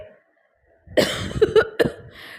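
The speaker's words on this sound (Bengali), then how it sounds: "কাশির শব্দ" An old man coughs in a few harsh, hacking bursts close by, with a short gap of silence before the fit and no other sound around it.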